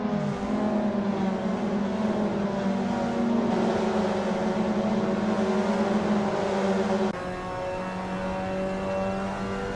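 Mazda MX5 race cars lapping Laguna Seca in the Assetto Corsa racing game, a steady sustained engine drone with harmonic whine holding high revs throughout, loud and continuous with a slight shift in tone near the end.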